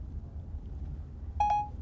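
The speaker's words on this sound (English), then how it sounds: "As soon as you hear the beep, you need to start speaking it" A single short electronic beep from the Siri voice assistant sounds clearly after a quiet stretch of low background hum.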